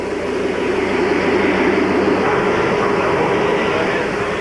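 Miniature cab microphones on a Lionel electric model train locomotive pick up a dense, continuous rushing roar as it runs, loud and unbroken throughout.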